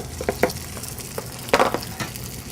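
Pierogies fry in imitation butter in a skillet, a soft sizzle broken by scattered clicks and scrapes of stirring, with a sharper clatter partway through.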